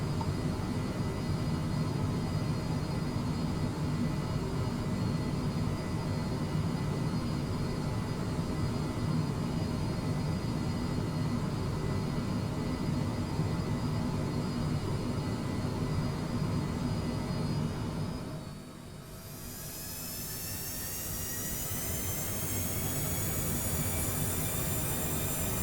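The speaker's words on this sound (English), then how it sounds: "once we are spooling up our engines" Simulated MD-11 jet engines in Microsoft Flight Simulator 2020 spool up for takeoff, a loud steady roar that dips briefly and then rises into a climbing whine.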